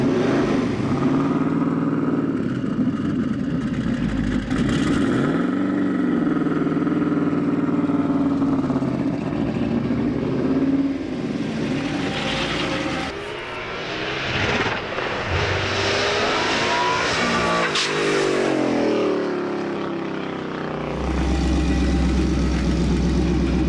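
An Audi race car with an AWD 01E transmission revs at full boost, a loud continuous engine roar rising and falling for over twenty seconds, close by and without talk.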